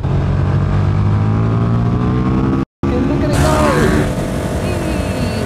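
A KTM motorcycle engine revving with the throttle opened, a loud, steady drone that shifts pitch as the revs rise, briefly cut by a split second of silence and then changing tone, with a voice partly over it.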